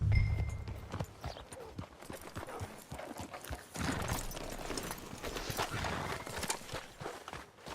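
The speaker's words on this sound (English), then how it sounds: "Hitch your horse Cortez around the front for me, will you" Horse hooves clip-clop at a walking pace in Red Dead Redemption 2, close and steady, with a brief snort or whinny and faint background ambience.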